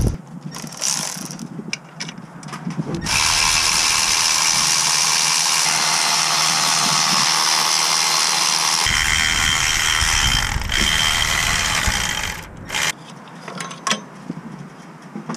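Ratchet spinning out 10 mm bolts from the glow plug module on a 6.0 Powerstroke diesel, a loud continuous mechanical whir with clicking bursts near the start and end, close up and without speech.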